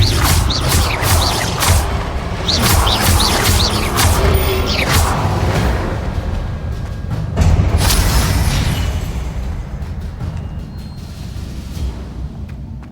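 Spell combat in Hogwarts Legacy, with repeated booming blasts, whooshes and crashing impacts in rapid succession, loud and dense early on and fading toward the end.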